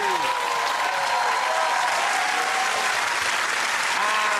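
Studio audience at a televised comedy panel show breaking into loud, sustained applause, dense steady clapping filling the room with some cheering tones over it.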